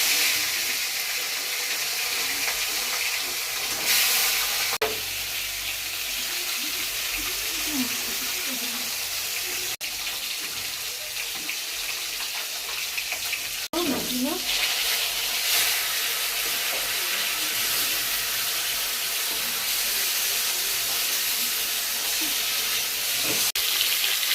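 Fish frying in hot oil in a wok, a steady dense sizzle and hiss running throughout at moderate loudness, with occasional faint clinks and no talking.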